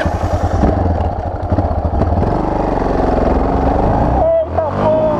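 A Yamaha XT motorcycle engine runs and revs loudly up close through the whole stretch, with a brief dip near the end before picking up again, while people talk over it.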